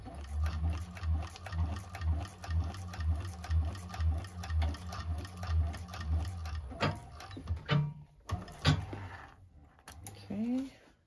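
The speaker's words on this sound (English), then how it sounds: "And then sew down the seam allowance." A 1341 cylinder-arm sewing machine runs in steady rhythmic bursts while sewing down a seam allowance on a bag, its needle clatter loud and close, then stopping near the end as a few handling knocks and a short voice follow.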